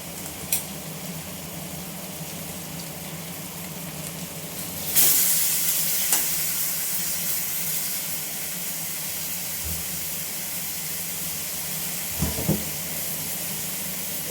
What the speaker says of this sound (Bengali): এবার সেদ্ধ করা কচু শাকটা আমি এর মধ্যে ঢেলে দেবো